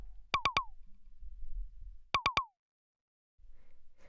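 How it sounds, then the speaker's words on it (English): A simple synthesized FM percussion hit with a sharp plucky attack sounds in two quick bursts of three, crisp and close over a quiet low rumble, followed by a short silence. "it's a really simple little FM percussion"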